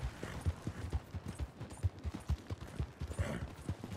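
A horse's hooves clip-clop at a steady walking rhythm in Red Dead Redemption II, with close, evenly spaced footfalls and faint creaks of tack and no talk.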